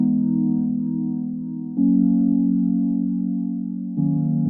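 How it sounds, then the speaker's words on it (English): Sustained electric-piano-style chords from SKY keys in FL Studio, holding a smooth progression with three long chord changes, clear and moderately loud with no voices. "Then I played the same thing with another chord progression, with another using SKY keys."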